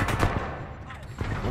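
Automated turret in Titanfall 2 firing heavy, booming shots in a couple of dense bursts with a lull between them, set in thick game ambience.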